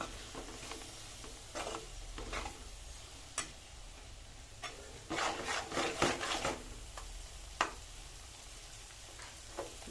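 A spoon scraping and stirring cluster beans curry in a pan, working the bottom so it won't stick: irregular rubbing and scraping strokes, some quick clustered bursts, close and fairly quiet, with no talking.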